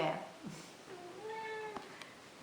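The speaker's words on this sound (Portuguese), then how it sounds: "antes de ser interrompida pelo meu gato" A pet cat named Zidane gives a clear, drawn-out meow with rising and falling pitch, close and fairly soft, right after a woman's speech.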